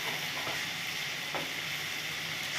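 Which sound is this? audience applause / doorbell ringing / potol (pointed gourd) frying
potol (pointed gourd) frying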